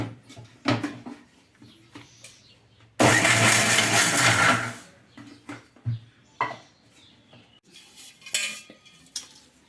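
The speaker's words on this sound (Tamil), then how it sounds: "இதையும் ஒரு மிக்சியில் போட்டு ஒரு அடி அடிச்சிடலாம்." A kitchen mixie grinds roasted peanuts and jaggery for kadalai urundai in a loud, dense whir lasting about two seconds, surrounded by clinks and clatter of spoons and vessels before and after.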